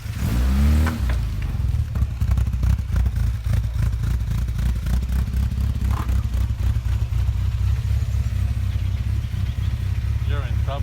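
Mini race car on a tuning day, engine revving hard with a sharp rev at the start, then a continuous loud drone.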